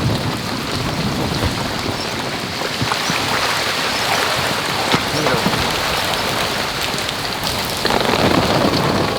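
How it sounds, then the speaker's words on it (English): Heavy tropical rain pours down hard in Cuba during a violent thunderstorm, a dense steady roar of drops hammering surfaces with rumbles of thunder rolling through, loud and close throughout. "Crazy storm there."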